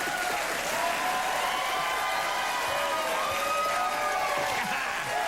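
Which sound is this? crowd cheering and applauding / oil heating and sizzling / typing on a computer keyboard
crowd cheering and applauding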